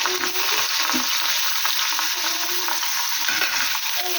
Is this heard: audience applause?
no